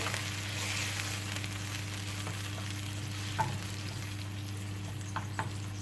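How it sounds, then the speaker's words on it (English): Canned tomatoes sizzle and fry steadily in a hot pan for patatas bravas sauce, a continuous soft crackle over a low steady hum, with a few small pops and stirring clinks. "we're going to drop in our can of tomatoes. get this warmed up."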